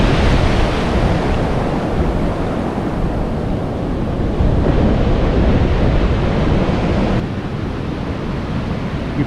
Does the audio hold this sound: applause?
no